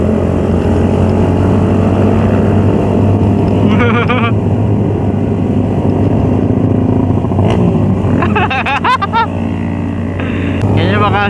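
Modified motorcycles ride through a city street at night, engines droning close and loud, with several sharp high revs and passing bikes, while a person talks over the noise.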